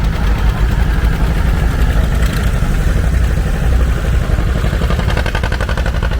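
An old John Deere tractor idling steadily at an antique tractor show, a loud close continuous engine chug with a low throbbing rhythm and mechanical clatter, no voices.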